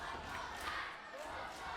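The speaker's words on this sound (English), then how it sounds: "Listen to the Whitehaven crowd" A wrestling crowd at Target Wrestling in Whitehaven roars and cheers in a dense, sustained wash, with shouting voices in the mix.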